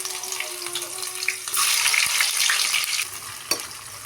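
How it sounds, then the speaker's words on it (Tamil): Onions dropped into hot oil with fenugreek seeds, a loud close sizzle that swells abruptly and holds steady, with a faint tap of a utensil near the end. "இப்போ நம்ம நல்லா பொரிஞ்சதும் வெங்காயத்தை ஆட் பண்ணிடலாம்."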